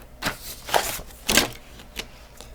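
Pen or pencil scratching out math equations by hand on paper, a few short separate strokes with pauses between them, close and fairly quiet.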